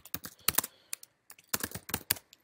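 Quick bursts of close keystrokes on a computer keyboard as a search is typed, clattering in two short runs with a brief pause between.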